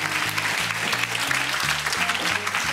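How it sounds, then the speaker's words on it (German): Dense applause from a German television studio audience after a live political debate segment, a sustained hiss of clapping over a low, pulsing tonal backing that sounds like show music. "Applaus für Held, meine Damen und Herren"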